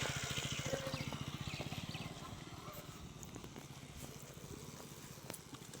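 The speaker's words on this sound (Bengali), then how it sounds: "আমাদের প্রো রাইডার বাইক নিয়ে নামছে।" A motorcycle rolls downhill on a mountain road from Siliguri toward Darjeeling, its engine giving a steady low thumping pulse that slowly fades as the bike moves off, with airy wind noise on top.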